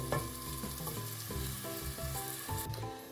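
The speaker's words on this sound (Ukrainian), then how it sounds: "Ось так покришили цибульку. Зараз ми її гарно підтушимо, щоб вона в нас стала м'ягенька." Chopped onion stewing in a pan for a meat lasagne sauce, a steady close sizzle with occasional soft scrapes of stirring, alone without talk.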